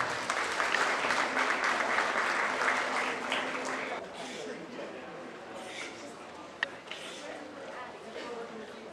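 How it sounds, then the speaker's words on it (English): An audience at a 4-H county fair goat show gives a round of applause, lively clapping for about four seconds that fades into quieter crowd murmur with scattered claps. "Let's give these guys a big round of applause"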